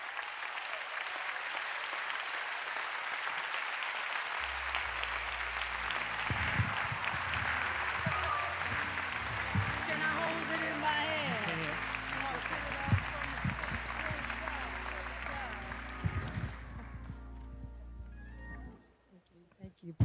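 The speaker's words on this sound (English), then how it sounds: "Won't you all give God a hand clap of praise" A crowd applauds steadily and loudly for a long stretch at a church worship service, joined by a low droning organ or music underneath, then the clapping fades out near the end.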